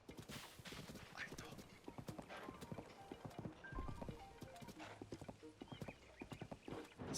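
The horse Epona galloping with clip-clop hooves and a neigh in Zelda: Tears of the Kingdom, rapid rhythmic hoofbeats and a brief whinny, with someone talking over the game audio.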